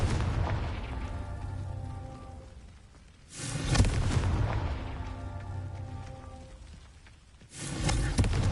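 Confringo blasting spells go off in Hogwarts Legacy, two deep booming explosions, each bursting loud and then decaying into a long rumbling tail.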